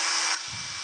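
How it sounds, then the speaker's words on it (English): A hair dryer blows with a loud, airy whoosh for a moment, then its pitch drops as it quiets to a lower hum. "get the hairdryer on it."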